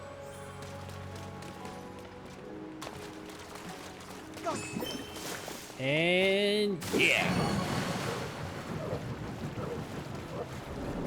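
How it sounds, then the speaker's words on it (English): Water rushes and drains from opened faucets in the Water Temple of Zelda: Tears of the Kingdom, a steady broad wash with brief game chimes and tones partway through, heard under a speaking voice. "Turning on some faucets."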